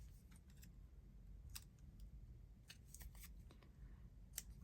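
Scissors snip the corners off folded paper for a trifold accordion ephemera holder, giving a few faint, close, sharp clicks spread over a quiet background with no speech.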